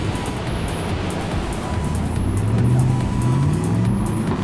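A GWM Tank four-wheel drive pushes through ocean waves on a wild South Australian beach, its engine droning and rising under a continuous loud rush of surf and spraying saltwater.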